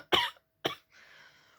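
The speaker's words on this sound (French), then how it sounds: "J'avais dit que j'ai arrêté de tousser, mais en fait, voilà." Two sharp coughs close by, followed by a soft breathy exhale.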